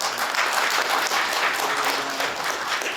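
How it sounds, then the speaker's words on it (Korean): Steady applause fills a hall at a Korean award ceremony for a unification cultural festival, many hands clapping densely and evenly throughout without a break, and no speech stands out over the clapping. "감사의 박수 한번 부탁드리겠습니다"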